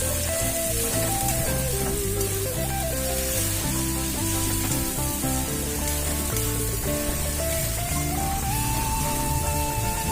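Spice paste for ghugni sizzles and fries in a kadai, a continuous bright crackling hiss with spattering pops, close and steady throughout, while background music plays underneath.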